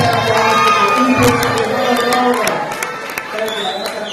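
A crowd at a charter school graduation keeps up loud applause mixed with cheering and shouts, then gradually thins out, with voices talking amid the noise.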